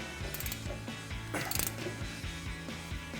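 A 16mm socket wrench ratchets on the front suspension of a 2017-2025 Ford F-250 Super Duty during a Roush lift kit install, with repeated rhythmic clicking strokes and a louder burst midway, close and clear with no talk.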